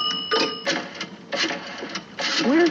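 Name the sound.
old recording of dialing a phone and inserting coin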